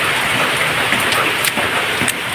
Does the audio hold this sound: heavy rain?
yes